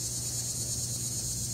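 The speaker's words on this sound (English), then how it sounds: "Shut up, cicadas!" Cicadas buzz outdoors in a steady, unbroken high-pitched drone that stays loud and constant, with no talking over it.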